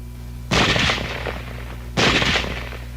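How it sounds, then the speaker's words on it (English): Automatic small-arms fire from a selective-fire military weapon, two loud sharp bursts about a second and a half apart over a steady background hum. "Now let's look at weapons which have both automatic fire and semi-automatic fire."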